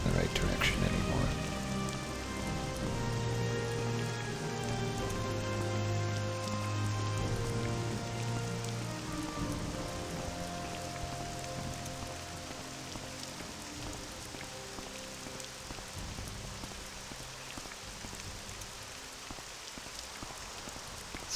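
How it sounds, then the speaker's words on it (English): Steady rain pours down throughout a scene in the video game The Elder Scrolls III: Morrowind, a constant hiss of drops on the ground with low droning ambient music underneath and no talking. "Something tells me it's gonna stop raining right at the second I find my destination."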